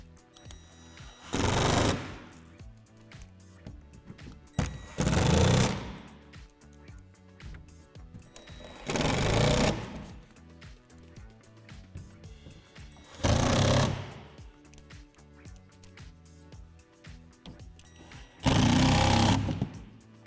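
A power driver fastens hardware joining plastic wall panels of a Lifetime utility shed, firing in five loud rattling bursts of a second or two each, evenly spaced with quiet gaps between.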